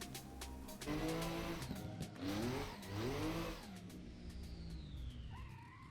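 A car drifting in the Assetto Corsa racing sim, its engine revving up and down through rising and falling pitch sweeps, with tire squeal and a steady drone throughout.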